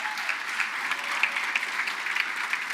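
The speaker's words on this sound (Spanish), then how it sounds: "denle un aplauso al Señor." Steady, moderately loud applause from a church congregation, many hands clapping together in an even continuous patter with occasional sharper claps and no one speaking over it.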